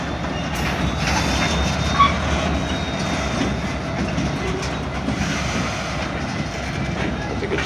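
A Norfolk Southern freight train, train 118, rolls steadily into the rail yard, giving a continuous low rumble with faint wheel squeals. Radio chatter comes and goes over it.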